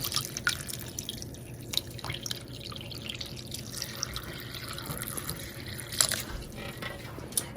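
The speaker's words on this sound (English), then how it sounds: "Okay, so I'm gonna add some extra water." Water trickles and drips steadily into a pot for a sea moss drink, a soft continuous pour with occasional brighter splashes, fairly quiet and with no talking.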